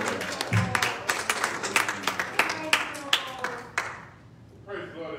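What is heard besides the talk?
congregation clapping hands in church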